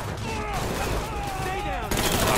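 Gunfire in Mafia III rattles on continuously at close range, a dense steady barrage with a sharper burst near the end, while faint voices sit under it.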